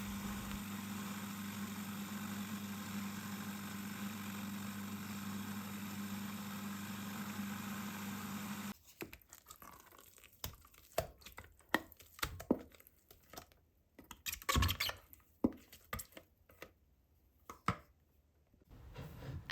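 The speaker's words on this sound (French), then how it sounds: "Ça va aider votre robot à mixer beaucoup plus rapidement et puis efficacement surtout." A food processor blends butternut squash with a steady motor hum for several seconds, then stops abruptly, leaving scattered scraping and knocking sounds.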